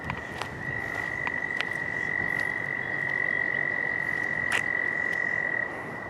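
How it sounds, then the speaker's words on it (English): Toads croak in a steady chorus by a pond in a suburban park, a continuous high trilling drone with a few louder nearby calls popping out over a low background hum. "Let's hear all those toads."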